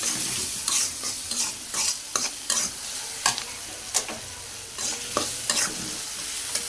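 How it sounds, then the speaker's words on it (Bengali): Onion fries in a pan with a constant crackling sizzle while a spatula stirs and scrapes in regular strokes, close and fairly loud, with no talk. "পেঁয়াজটা ভাজা হোক।"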